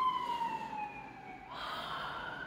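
An ambulance siren passes outside, its wailing tone sliding downward and then shifting pitch as the vehicle goes by, moderately loud and steady.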